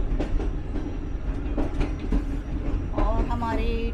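The Sir Syed Express passenger train, on its Rawalpindi to Karachi run, rolls slowly along the rails with a steady low rumble and rhythmic clattering, heard from inside the carriage, with a faint voice toward the end.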